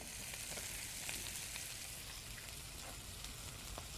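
Zucchini frying in olive oil in a big skillet, a steady close sizzle and crackle holding at an even level with scattered small pops throughout.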